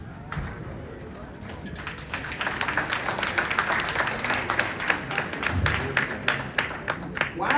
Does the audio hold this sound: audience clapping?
yes